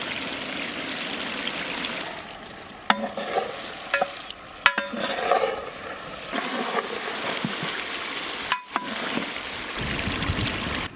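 Chicken roasting in a pot for Kalyani biryani, a close steady sizzle with stirring scrapes and a few sharp clinks of a spoon against the pot, no talking.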